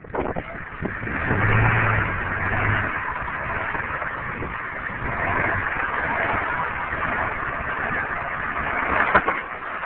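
A big 4x4 truck engine rumbles steadily as the vehicle maneuvers off-road, loud and close with slight swells in revs, and no clear voices.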